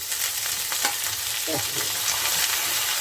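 Red amaranth greens frying in hot oil with eggplant, giving a loud, dense, continuous sizzle with a few light stirring scrapes underneath.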